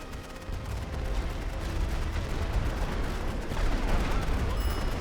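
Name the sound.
artillery barrage in a WWI video game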